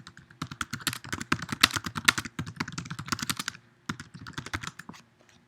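Rapid typing on a computer keyboard while entering a search query, a dense run of clicking keystrokes with a short pause before a final burst, close and clear with no talking.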